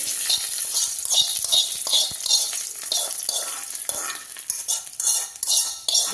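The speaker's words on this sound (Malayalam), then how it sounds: "ആ കടുക് ഒന്ന് പൊട്ടട്ടെ കേട്ടോ അപ്പോൾ കടുക് പൊട്ടി കഴിഞ്ഞ്" Mustard seeds crackle and pop in hot oil with rapid, irregular spitting bursts, continuous and fairly close, with occasional clinks of a utensil.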